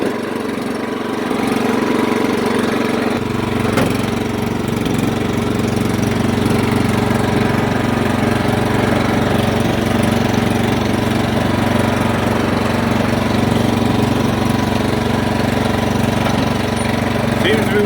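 An old riding lawn mower engine turns over and settles into a steady, rough, loud idle that runs on continuously with a constant low mechanical drone.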